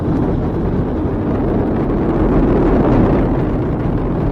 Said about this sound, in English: Engines on the core stage and 2 solid rocket boosters now propelling the vehicle at 128 miles per hour.